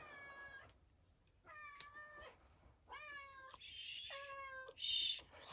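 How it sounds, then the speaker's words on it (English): A pet cat named Molly meows repeatedly, six or so distinct tonal cries of varying length and pitch, close by and fairly loud, some rising into higher, more strained calls, with no talk over them. "Sorry about my cat."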